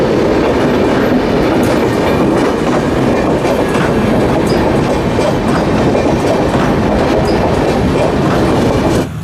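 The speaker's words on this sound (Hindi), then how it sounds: "अपनी अमृत भारत एक्सप्रेस को भी अराइवल मिल जाता है।" Amrit Bharat Express rumbles loudly and steadily past, with continuous wheel clatter and faint squeals running throughout and no voices.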